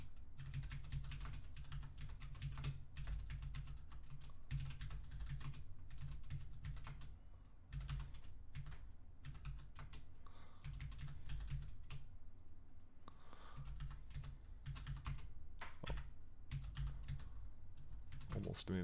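Rapid, soft clicking of keys as numbers are entered on a graphing calculator keypad, steady bursts of close, faint taps with short pauses, no talking.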